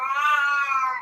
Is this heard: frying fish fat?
no